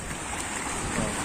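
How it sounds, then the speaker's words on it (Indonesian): Rough sea waves wash steadily along a rocky shore where seaweed is gathered for rabbitfish bait, a constant close-up broadband roar of surf and water with no clear breaks. "Ombaknya gendeng lah."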